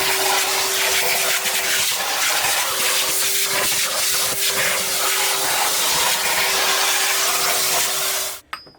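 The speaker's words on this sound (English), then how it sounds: "I'm back with my Hoover, just a little handheld one, and I'm going to go ahead and get rid of all of these flaky crumbs and debris" A small handheld Hoover vacuum cleaner sucks up flaky crumbs and debris inside a motorhome cooker, giving a loud, continuous rushing hiss with a steady motor hum that stops abruptly at the end.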